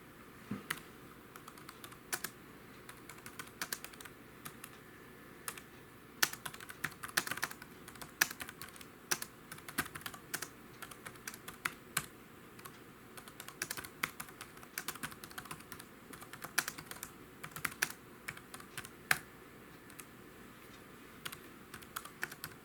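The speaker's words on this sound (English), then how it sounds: "I'm not used to this keyboard, so I'm making tons of spelling mistakes" Rapid, irregular clicking of keys on a computer keyboard, typed in quick bursts with short pauses throughout, fairly close and alone with no talk.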